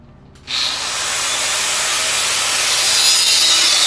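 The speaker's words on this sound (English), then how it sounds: "Once your piece is marked, you wanna clamp it and cut it." A clamped piece of scrap metal is cut for welded bookends: a harsh, steady hissing cut starts abruptly and runs loud and continuous for several seconds, close up with no talk.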